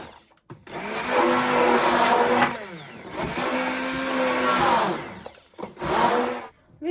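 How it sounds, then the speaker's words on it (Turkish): An electric hand mixer whisks lentil crepe batter with baking soda and salt, its motor whirring loudly in three long bursts separated by brief pauses. "Şimdi son olarak yine güzelce bir çırpıyoruz."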